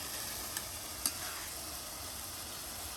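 Dried shrimp frying with chopped potato, onion and garlic in a rural kitchen, giving a steady, even sizzle with a couple of faint clicks of stirring.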